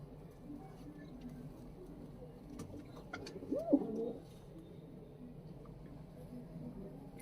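Pigeons cooing softly at a rooftop loft, a brief low coo rising mid-clip over a steady murmur of background noise, with no speech.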